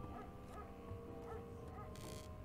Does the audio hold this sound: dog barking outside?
yes